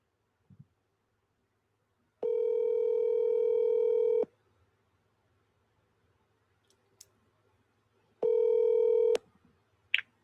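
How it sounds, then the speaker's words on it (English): Two ringback tones on an outgoing telephone call placed to a radio show host live on air: steady two-second buzzing tones separated by silence, with faint clicks, and no talking. "Okay, it's ringing."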